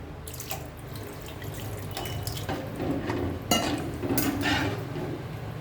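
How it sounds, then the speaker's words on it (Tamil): Water is poured and splashes into a pot of coconut fish curry in a home kitchen, a continuous close trickle with faint clinks from pots and utensils. No one speaks. "கொஞ்சமாக தண்ணி போட்டு"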